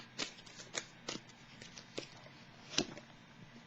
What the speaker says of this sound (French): Je peux bien piger une carte pour déposer sur la carte de l'équilibre à l'envers